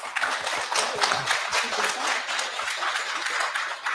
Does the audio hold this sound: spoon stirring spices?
no